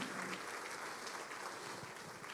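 Church congregation applauding during a Portuguese-language sermon, a soft, steady patter of clapping heard at a distance and at low volume, without pauses.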